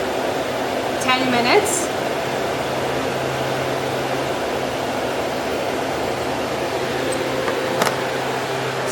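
A wind tunnel fan runs steadily during calibration, giving a constant broadband rush with a low hum; a voice talks briefly near the start over the even, continuous drone.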